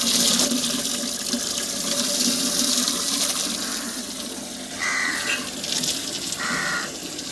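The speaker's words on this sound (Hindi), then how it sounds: "तो पहले हम पानी भर लेते हैं।" Water runs steadily from a tap into a container at a village home, a continuous broadband rush with two brief higher-pitched tones near the end, no voices present.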